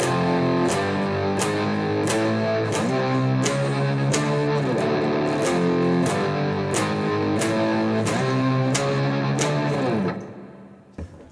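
Distorted electric guitar plays the riff slowly, with steady repeated picked notes and slides, loud and alone, ringing out and fading in the final second.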